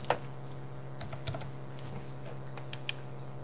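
Short, light keystrokes on a computer keyboard while renaming a folder in Windows, a few sparse taps close up over a faint steady hum.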